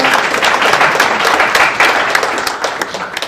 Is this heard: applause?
yes